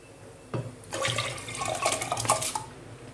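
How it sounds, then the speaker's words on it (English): A khichadi rice-and-lentil mixture with water is poured into a pressure cooker in a home kitchen, giving a brief knock followed by a few seconds of close, splashing liquid. "I've taken a cooker and putting the whole mixture along with the water."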